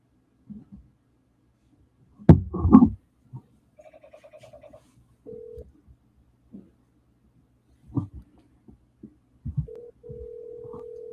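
Telephone call being placed to a real-estate agent, with short ringback tones heard near the end amid a few brief voice bursts and soft background clicks; the line rings in steady repeated pulses.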